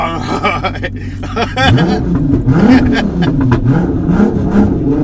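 A turbocharged sleeper car engine revs up and settles into a rising and falling drone as it warms up, loud and close, with someone talking over it.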